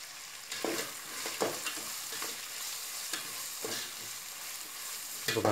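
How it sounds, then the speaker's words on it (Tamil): Chopped tomatoes with salt sautéing in a pan for a Chettinad-style mushroom biryani, a constant gentle sizzle with repeated scraping stirs at an irregular pace, close and moderately quiet, with no voices. "தக்காளி வந்து ஓரளவு நல்லா வதங்கிடுச்சு"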